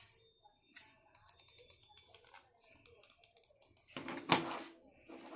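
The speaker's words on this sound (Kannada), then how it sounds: "Click sounds." Dell wireless mouse buttons clicking, a quick series of light, close, sharp taps followed by a louder burst of handling noise.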